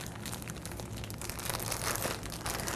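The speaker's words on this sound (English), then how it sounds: "put it in your plastic bag and just mush" Sausage and cheese mixture being mushed by hand inside a plastic bag, a steady close crinkling and squishing of plastic with no talking.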